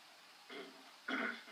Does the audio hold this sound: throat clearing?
yes